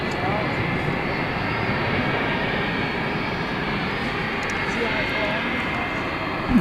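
A Boeing 757 jet at DFW Airport at night gives off a steady, loud broadband engine roar that holds evenly for the whole stretch, with a slight swell at the very end.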